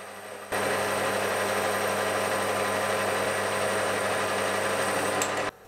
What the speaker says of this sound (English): So I'll get a piece of rod in the lathe and then take it down to 10mm.